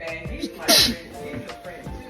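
A single sharp sneeze bursts out amid casual conversation, loud and close, with people talking before and after it.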